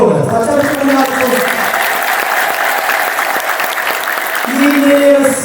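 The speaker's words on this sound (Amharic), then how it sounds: "በእውነት አጨብጭቡላቸው።" Loud, dense applause rises from an audience at a new monastery celebration in Mesquite, Texas, continuous throughout with a few voices calling out over the clapping.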